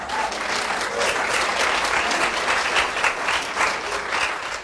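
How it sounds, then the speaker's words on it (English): Steady, full audience applause rings out for the waiters during a stage musical dinner show, a dense wash of many hands clapping for several seconds with no voice on top. "Give them a round of applause."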